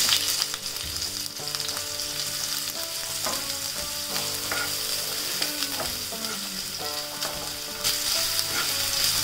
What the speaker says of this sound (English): In a pan, I'm going to take around 1 tablespoon of refined oil. Here I'm adding half cup of onions.